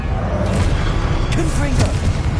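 Confringo explosive spell cast in Hogwarts Legacy, deep booming blasts rumbling at low pitch throughout, with a voice calling out briefly over them.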